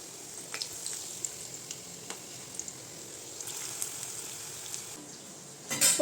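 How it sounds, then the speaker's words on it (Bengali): Onion pakoras, thinly battered, frying in hot oil in a home kitchen: a steady, soft sizzling hiss with scattered pops and crackles, continuous throughout, with a louder burst of spattering at the very end. "এবার একটা একটা করে পকোড়া দিয়ে দেবো এর মধ্যে।"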